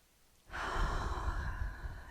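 A long, steady exhale during a yoga breathing exercise, one breath lasting almost two seconds, close and fairly loud, heard alone without speech.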